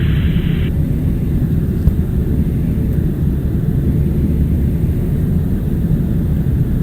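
Steady, loud drone of a light aircraft engine in flight, heard from inside the cabin as a continuous rumble with no clear change in pitch.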